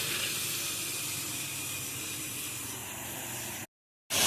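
Low-pressure pressure washer rinse on a large estate house, a steady broad hiss of spray running continuously, then a brief cutoff and the spray resuming.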